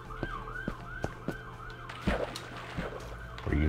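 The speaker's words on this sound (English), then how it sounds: "Sirens passing by." Emergency vehicle sirens wail with a rising and falling tone as they pass by outside, heard from indoors at moderate distance, mixed with faint street noise and occasional thumps.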